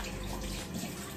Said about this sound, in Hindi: मैं पूरा चेहरा वॉश कर लूँगी